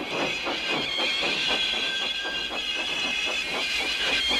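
An animated steam engine puffs in a steady, regular chuff rhythm under a constant high hiss of steam, moderately loud and close, with no voices.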